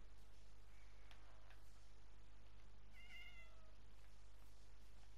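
A cat in the Minecraft game meows twice, short tonal cries at moderate distance over a constant low background hum, with no talking.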